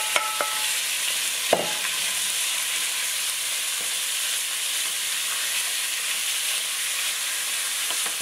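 Garlic sizzling steadily in a hot pan as beef is about to go in for a Chilean carbonada, a bright constant fry with a couple of faint utensil clicks and no talk.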